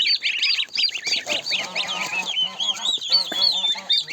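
Many adult geese honking and cackling together at close range, a busy overlapping chorus with softer chirping calls of goslings mixed in.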